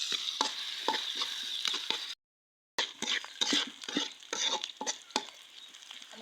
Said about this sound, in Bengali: আদা রসুন পেঁয়াজ কাঁচামরিচ এগুলো ভালো করে ভাজা নেব।